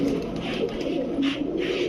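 Pigeons of the Kamargar, Rampuri, Kaldom and Gorra breeds coo softly and continuously close by, a low steady murmur with a few brighter swells and no voices.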